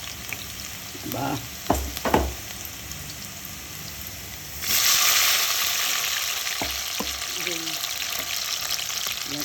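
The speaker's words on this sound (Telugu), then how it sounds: "పొయ్యి మీద నూనె వేసి ఫస్ట్ ముందుగా ఇలా వెల్లిపాయలు వేగాక" Garlic frying in oil on a stove, with a few utensil clinks early on and then a loud, steady sizzle that starts suddenly and keeps going.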